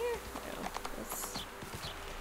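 A horse's hooves clatter quickly down a flight of stairs in a video game, a short burst of faint, hollow clip-clop steps set against quiet background noise.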